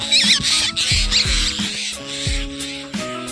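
A tiny baby bird cheeps in rapid, high-pitched bursts close by, repeating several times over a background of low thumps and hum, with no talk.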